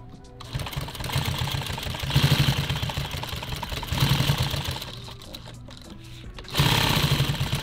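A sewing machine stitches a buckle onto nylon tactical gear in close, loud bursts of rapid mechanical chatter, stopping and restarting several times with short pauses between runs.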